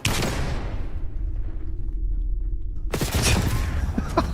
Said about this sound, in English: Incoming flashbang.